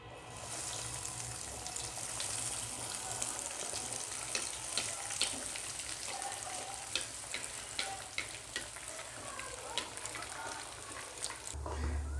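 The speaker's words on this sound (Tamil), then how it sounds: "இந்த மாதிரி எல்லாத்தையும் நம்ம ஃப்ரை பண்ணி எடுத்துக்கலாம்." Veg cutlets fry in hot oil in a home kitchen. The sizzle is continuous and crackling, with scattered sharp pops and a faint clink near the end, and no voices are heard.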